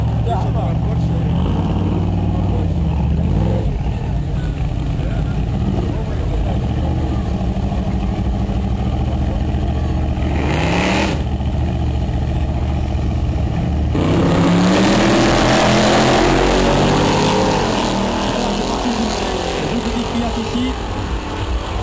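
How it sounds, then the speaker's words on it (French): A Chevy V8 race car at the King of Europe 2005 drag racing event revs and roars loudly, surging into a harsher, fuller blast partway through, while a commentator talks over it. "bolide très très impressionnant avec leur moteur V8 Chevy"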